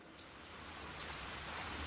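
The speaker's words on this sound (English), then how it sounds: "the continuous downpour hinders our plan" Steady rain falling in the video game Stella Sora, a continuous downpour that hisses evenly and grows slightly louder, with no voices over it.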